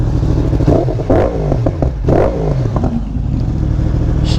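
A Yamaha R1 sport motorcycle engine idles and revs close by, with a couple of sharp throttle blips rising and falling over a steady rumbling idle, plus some mechanical clatter.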